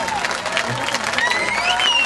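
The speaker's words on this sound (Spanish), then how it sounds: "Y de nuevo, fuerte aplauso para Mr. Persland." Applause from a crowd at a marketplace anniversary party, steady clapping with some cheering filling the whole stretch.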